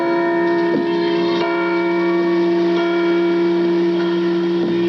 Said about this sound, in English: we celebrated with bells.